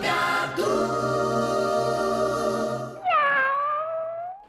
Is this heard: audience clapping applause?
no